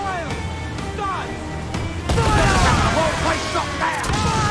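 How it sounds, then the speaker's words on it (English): Naval battle video game cannons fire a burst of rumbling booms and gunfire-like blasts, swelling louder midway, with shouted voices continuing over the barrage. "Cannon! Fire! Start!"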